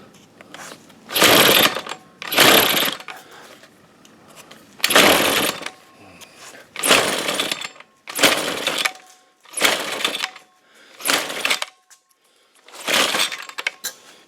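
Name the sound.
Toro weed trimmer engine starting and running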